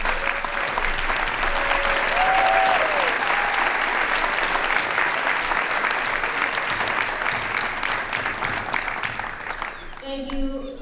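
Audience applause rings out for Russ at the Ruth Kellett Gymnasium dedication ceremony, a dense steady clapping that lasts about ten seconds before tapering off, with faint voices and a whistle-like tone briefly heard over it.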